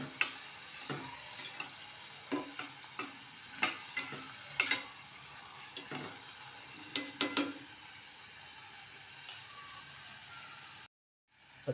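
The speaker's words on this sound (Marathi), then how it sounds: "आता आपण या तेलामध्ये आपण कांदा फ्राय करून घेऊया." Chopped onion frying in oil in a pan on the stove gives a low, steady sizzle, broken by repeated light clinks and scrapes of a stirring spoon, then a brief silence at the end.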